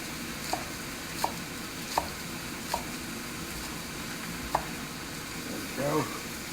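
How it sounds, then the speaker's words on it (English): A knife chops scallions on a cutting board with six sharp, evenly spaced cuts. Vegetables sizzle quietly in a hot cast iron pan underneath, and a brief rustle comes near the end. "And the last thing we'll add are some scallions. I'll cut these at about a 45-degree angle."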